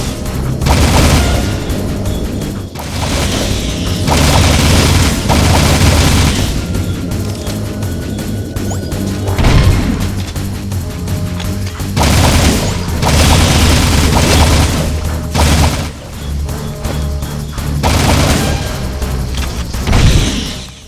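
Gunfire and explosions in Jak II come as sustained heavy booms and rapid blasting in repeated loud bursts, with short pauses between waves of combat noise and game music underneath.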